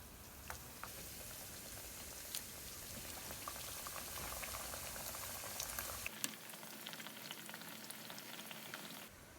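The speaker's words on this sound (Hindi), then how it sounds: "बस इसी तरह हमने ना सारी ही टिक्कियाँ फ्राई करनी है।" Sweet tikiyan frying in oil or ghee, a steady dense bubbling sizzle that runs throughout and drops slightly in the low end partway, close and continuous with a few small pops and no talking.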